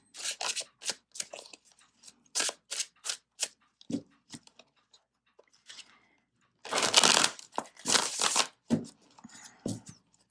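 Tarot cards being shuffled close up, with bursts of crisp riffling and flicking slaps separated by pauses, and a longer, denser flurry of shuffling partway through, with no talking.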